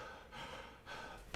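A trumpet teacher demonstrates an intercostal chest inhale: a few airy breath sounds close to the mic, ending in a sharper audible gasp.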